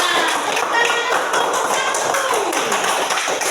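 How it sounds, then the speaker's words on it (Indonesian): A fifth-grade primary school class claps together after a group presentation. The applause is dense and continuous, filling the room at an even level throughout. "Tepuk tangannya"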